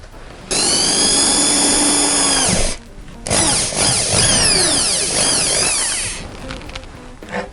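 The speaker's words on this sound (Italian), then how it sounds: "foro prima con una punta molto piccola e poi ingrandiamo il buco in base alla misura del pennino" A small power drill with a very fine bit bores a pilot hole for a pen nib fitting, its motor whining up loudly and close, stopping briefly midway, then spinning up again and gradually winding down.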